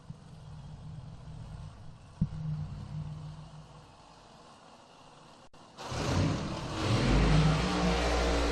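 A nitro-injected drag racing car at a Norwalk drag strip, heard from a distance as a low engine rumble that surges loud and close after a brief lull, ending in a sustained roaring pass.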